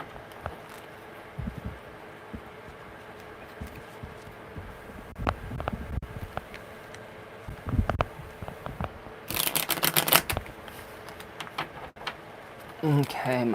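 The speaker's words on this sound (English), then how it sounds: "we're gonna give it one more good shuffle" A short riffle shuffle of tarot cards rattles briefly amid soft taps and handling noises, with a quiet voice near the end.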